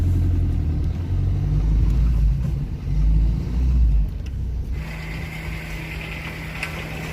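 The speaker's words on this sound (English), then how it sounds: "So I am driving to the supermarket right now." A car drives along a road on the way to a supermarket in Italy, giving a steady low engine rumble and road noise that eases slightly partway through, heard from inside the vehicle with no talking.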